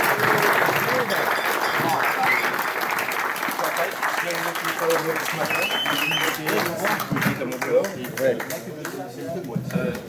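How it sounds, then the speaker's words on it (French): An audience at a football club anniversary celebration breaks into loud, dense applause that gradually thins into scattered claps, with some voices mixed in. "Je vous demande de faire un hommage et un tonnerre d'applaudissements pour Chantal Maillard"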